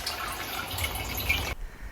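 Rainwater trickles off a roof into a water barrel made from a repurposed olive container, a close, continuous splashing dribble that cuts off abruptly near the end.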